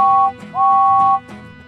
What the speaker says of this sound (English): he tooted 3 times on his whistle